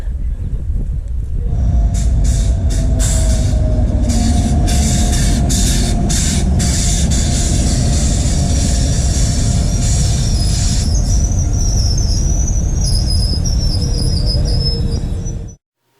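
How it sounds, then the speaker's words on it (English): A Vande Bharat train rolls into a station loudly with steady rumbling and high metallic wheel squeals, continuous and close, then cuts off abruptly near the end. "The train is arriving"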